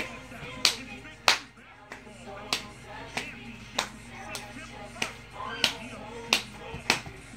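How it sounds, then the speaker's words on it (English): A group claps hands in a loose, steady rhythm, about ten sharp claps spaced roughly half a second to a second apart, close and fairly loud over a faint background hum. "Now clap your hands."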